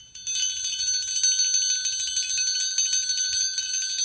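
A bell rings steadily and loudly to announce the upset of the week in an NFL picks segment, a bright sustained ringing with repeated strikes and no talking.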